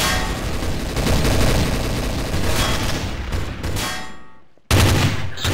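Sustained, loud automatic gunfire spraying in Trouble in Terrorist Town, a dense rattling burst that fades out, cuts to silence, then resumes abruptly.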